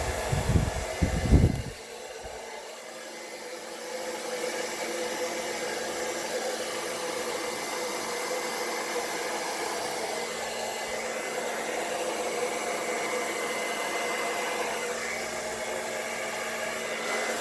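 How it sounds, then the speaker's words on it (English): A hair dryer blows steadily and loudly for the whole stretch, a constant broadband whoosh, with a few brief bumps and clatters at the very start. "Blow dryer, lower your volume."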